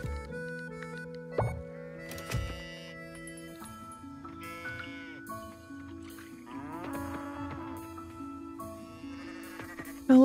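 A farm goat in the life-sim game Coral Island lets out several bleating calls, spaced irregularly over soft background tones, fairly close and moderately loud.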